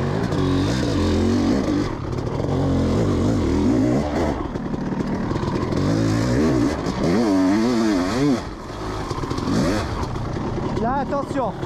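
A Honda CR500 500cc motorcycle rides and revs hard, its engine pitch sweeping up and down through repeated throttle blips, loud and close throughout, with a rider's voice briefly heard over it.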